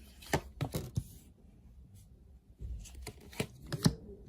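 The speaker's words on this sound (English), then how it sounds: "Let's lay out some cards for Cancer, Pisces, Scorpio and see what's coming up here" A tarot deck handled close up and quiet: scattered soft riffling flicks and card slaps come in two clusters with a brief lull between, as cards are shuffled and laid out.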